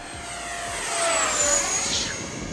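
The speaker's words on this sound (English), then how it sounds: "Got that jet-like sound" An H-King Flycat V2 70mm electric ducted-fan RC jet sweeps past outdoors with a rising then falling whine, growing louder toward the middle of the pass before easing off, with no voices.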